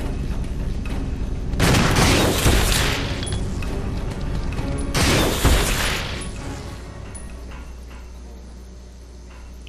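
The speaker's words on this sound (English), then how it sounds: "I'm about to blast on him with this magnum so I can insta-kill him." Two loud, booming magnum gunshots blast in Resident Evil Zero as a swarm of bugs attacks, each shot a broadband burst with a ringing tail, spaced about three seconds apart over a steady game ambience.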